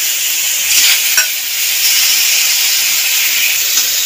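Chopped green mango goes into hot oil with fried mustard seeds for a Bengali mango tok, and a loud steady hiss and sizzle fills the clip, with a brief clatter near the start.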